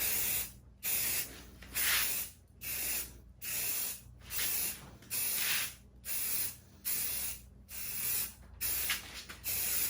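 Rhythmic bursts of aerosol spray paint hiss, each about a second long with short pauses between, steady and close-up, with no voices, while refinishing a .22 Winchester rifle.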